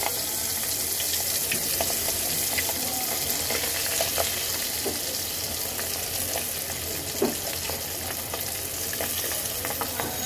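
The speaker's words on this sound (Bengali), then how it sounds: "এখন আমি মাছগুলো ভেজে নেব।" Golsa fish frying one piece after another in hot oil in a wok, a steady close crackling sizzle with scattered pops and a brief louder spatter, no voices.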